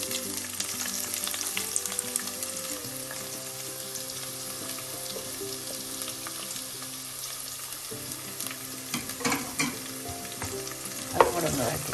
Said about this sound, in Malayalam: പിന്നെ ഒരു 4 പച്ചമുളക് ഇവിടെ ഒന്ന് വഴറ്റി, ചെറുതായി ഒന്ന് വഴറ്റിയാൽ മതി.